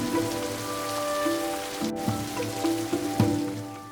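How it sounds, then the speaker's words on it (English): Rain falls steadily in the forest of the Western Ghats at Amboli during the monsoon, a soft continuous patter of drops with a few closer splashes and a faint low hum beneath. "the rain did not stop"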